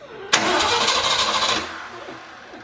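A cold Ford 351 V8 cranks and fires, then runs with a loud, rough, steady roar for about a second before it cuts off quickly and fades into a quiet background.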